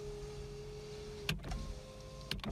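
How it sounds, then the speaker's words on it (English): Power window motor whirring on a 2006 Nissan Sentra: a steady electric hum running about a second and a half, ending in a thump as the glass stops, then a second short whir and clunk, heard close inside the car. "This window works."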